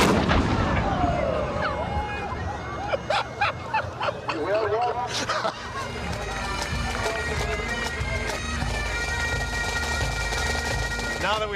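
A ceremonial cannon fires at a Highland Games, a loud boom cutting through the busy outdoor crowd noise with sharp bursts mid-way, while people talk over the scene.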